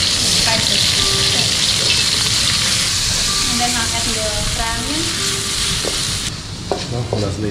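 Loud, steady sizzling of oil frying in a pan with stirring scrapes throughout, some faint voices underneath, easing slightly near the end.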